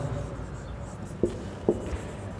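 Chalk tapping on a classroom board during a chemistry lesson, two short distinct knocks about half a second apart over a low room hum, with no talk.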